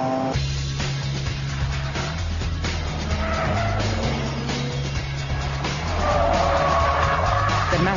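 A Mazda RX8 laps a test track with its rotary engine droning steadily as the tires squeal through corners, the engine note rising and falling over continuous loud tire noise.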